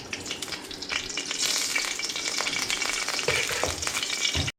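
Two spoons of ghee sizzle and crackle steadily in a frying pan on a stove while fish biryani is being made, a continuous close hiss with small pops.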